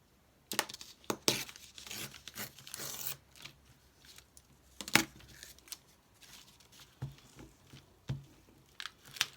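Scissors snip paper for an art journal in a series of quiet, close, crisp cuts with irregular pauses, plus faint rustling and tapping between them.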